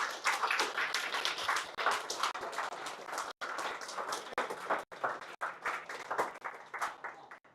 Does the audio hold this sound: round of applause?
yes